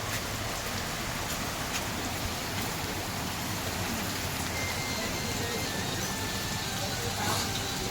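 Heavy monsoon rain pouring over a farm, a dense, even hiss of downpour that holds steady throughout without letup.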